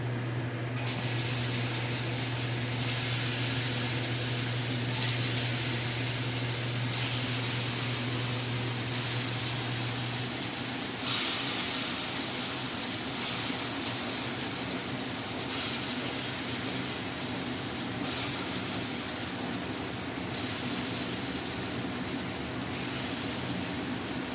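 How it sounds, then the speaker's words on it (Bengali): Lentil fritters frying in mustard oil in a kadai, a steady crackling hiss throughout, close and continuous with no talking, a low hum dropping out partway through. "ডালের বড়াটা এবার ভেজে নেব"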